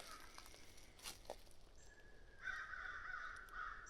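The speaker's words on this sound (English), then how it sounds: "A lot of crows." Crows caw outdoors at a moderate distance, a few harsh calls with a longer run of cawing toward the end over faint background noise.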